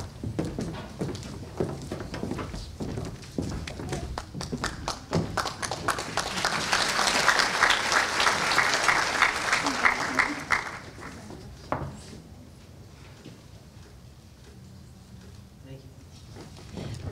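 An audience applauds an honoree at an Annie Award chamber event, the clapping swelling to a loud, dense roar and then fading to scattered claps, with a voice speaking over it.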